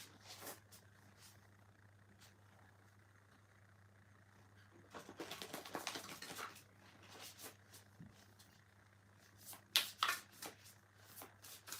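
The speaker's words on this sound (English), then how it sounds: "Let's give these cards a shuffle" Tarot cards being shuffled by hand, a soft papery riffling burst of a few seconds in the middle, with a quieter rustle near the end over a steady low background hum.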